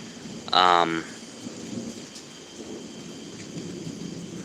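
A summer thunderstorm in Pittsburg, Kansas, with steady rain hissing throughout and low thunder rumbling underneath, plus a short bright tonal burst near the start.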